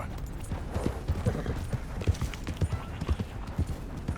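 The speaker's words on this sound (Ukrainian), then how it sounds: "А давайте покормимо трошки лошадь." Horse hooves clip-clopping in Red Dead Redemption 2, a steady rhythmic series of close, distinct hoof falls at a walking pace, continuing alone for several seconds.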